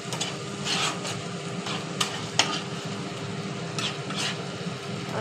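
Potatoes being stirred with spice masala in a pan for a Bengali aloo dum, a low steady sizzle broken by scraping and a few sharp utensil knocks, close and without voices.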